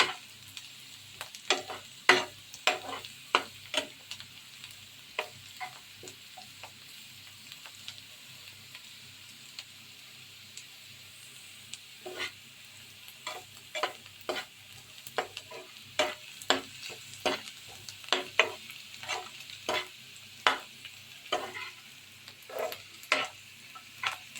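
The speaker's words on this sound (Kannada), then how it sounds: "प्याज ब्राउनिश होने तक हमें पका लेना है।" Sliced onions frying in a pan until brown for mutton pepper fry, under a soft continuous sizzle broken by frequent sharp spatula clicks and scrapes, sometimes in quick clusters, close and fairly quiet, with no voices.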